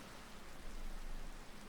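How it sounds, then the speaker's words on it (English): Steady rain falls in Ishgard in Final Fantasy XIV, a soft, even hiss of drops hitting surfaces with no voices over it. "It's a rainy day in Ishgard."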